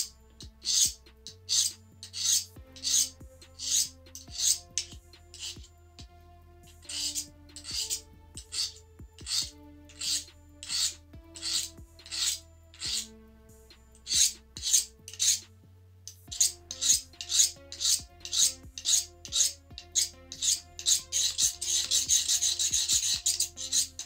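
A blade drawn repeatedly through a Sharpens Best knife sharpener, giving close rhythmic rasping strokes in quick runs separated by short pauses, with a faint metallic ring.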